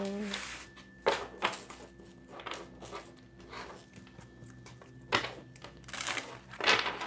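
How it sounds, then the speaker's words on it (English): Tarot cards being shuffled by hand, a handful of quick crisp riffling bursts spaced a second or so apart, close and soft against a quiet room. "Let's give these cards a shuffle."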